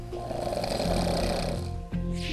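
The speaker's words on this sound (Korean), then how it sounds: "코를 골고" A single loud, rasping snore drawn out over a couple of seconds, close up, ending in a brief snort.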